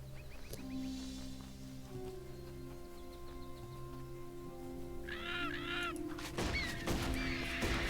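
A harpy, a bird-woman enemy in the Titan Quest video game, gives shrill warbling cries midway through, followed by loud impacts and clashing combat noise over a steady background music drone.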